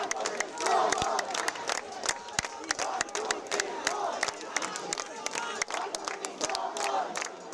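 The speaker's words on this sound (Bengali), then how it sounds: "আবাসিক হলে ছাত্র রাজনীতি নিষিদ্ধের দাবি জানিয়ে স্লোগান দিতে থাকেন শিক্ষার্থীরা।" Students at a midnight campus protest march at Dhaka University chanting slogans in unison, a loud crowd shouting in repeated rhythmic bursts with sharp claps or beats, close by and continuous.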